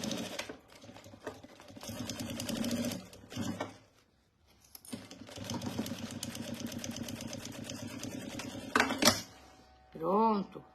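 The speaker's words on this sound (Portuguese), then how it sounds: "Fizemos isso, vou pra máquina, tá? Bora lá pra máquina." A domestic sewing machine stitching fabric for a table basket, running in a steady rapid chatter with a brief stop and restart, close up, and someone speaking briefly at the end.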